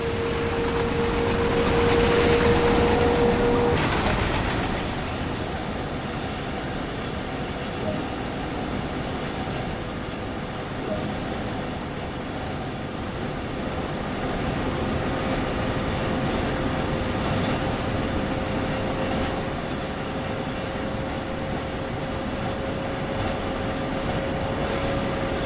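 Exterior sounds of a train in the Train Sim World game on the Main-Spessart Bahn: a steady low rail rumble with a brief tonal whine at the start, then a thin sustained tone over the running noise.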